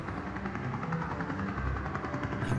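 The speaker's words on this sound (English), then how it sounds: "There's a noisy helicopter flying around here." Helicopter in the video game Dreams of Another, a low droning rotor thrum with a faint rhythmic chop, moderately distant and steady overhead with no one talking.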